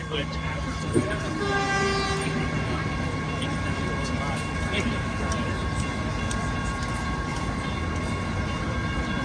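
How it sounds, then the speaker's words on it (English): A train arriving at a station rumbles steadily nearby with a long tonal horn or brake squeal, a continuous wash of rail noise and faint talk underneath. "There's a train coming right now."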